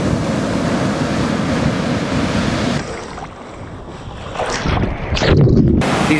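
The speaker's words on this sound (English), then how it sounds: "These waves are insane." Big ocean waves crash and roar on the Hawaii shore with a steady loud wash of surf and gusting wind over the mic, then break up and surge again toward the end.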